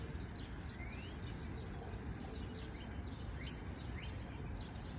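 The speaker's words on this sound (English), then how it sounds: "I think that's the same bird" Faint bird calls in an outdoor natural setting, with repeated short chirps scattered high over a steady broadband background rumble; no talking.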